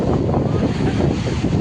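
Strong wind buffeting the microphone at Digha sea beach, a loud continuous roar of rumbling gusts with surf noise mixed underneath.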